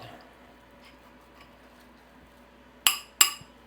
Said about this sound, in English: Scrape the sides all in of the powder. Stir it up.